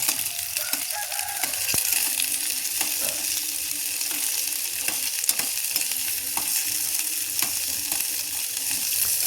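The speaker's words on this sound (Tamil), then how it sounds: "இப்போ நான் வந்து எடுத்து வதக்க போகிறேன், பாருங்கள்" Eggplant sautéing in a pan, a steady close sizzle broken by frequent scraping and clinking as a utensil stirs the pieces.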